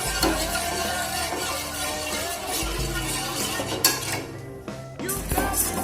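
Cooking pots and pans clatter and clink against each other on a kitchen stove during preparation of a children's nutrimix porridge, with steady clanking and scraping throughout and a few sharper metallic knocks.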